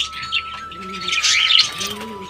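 Pairs of pet birds in a cage, fed seeds, chirp and tweet busily up close, with a soft cooing undertone running beneath the bright calls.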